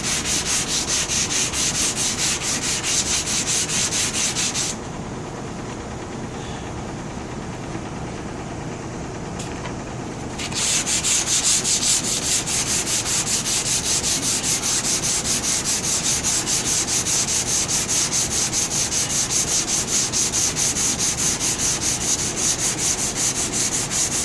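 A stripped Zenith 8S536 radio cabinet is sanded with a continuous, rapidly rhythmic rubbing that stays close and steady. The tone softens briefly in the middle before returning to full, even strokes.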